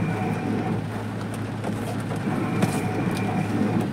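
Train rumbling and clattering along the tracks at Secunderabad railway station, a steady low drone with scattered metallic clicks, moderately loud and with no talking.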